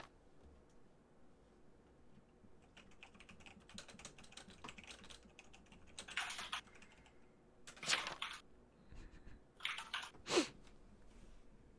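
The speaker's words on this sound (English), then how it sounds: "I hear you typing!" Bursts of computer keyboard typing during online multiplayer play of Town of Salem, faint clicks thickening into dense clustered runs near the end, with no talk over them.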